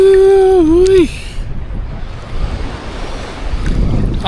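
Ocean waves wash and hiss at Playa Rincón beach on the Samaná Peninsula, Dominican Republic, with wind buffeting the microphone; a loud shouted cheer opens before the surf noise.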